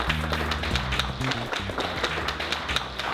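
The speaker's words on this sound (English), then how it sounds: "A great round of applause." An audience at an evening show claps loudly and steadily for several seconds while music plays underneath, the clapping dense and close throughout.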